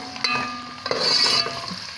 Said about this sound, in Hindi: इसी ऑयल के अंदर हम ऐड कर देंगे एक कप स्लाइस में कटी हुई प्याज, इसे अच्छी तरीके से हम करेंगे फ्राई।